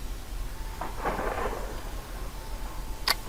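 Thunder in the horror video game Kraven Manor rumbles over a steady rain-like hiss inside a manor, swelling in the first half and followed later by a sharp, bright crack.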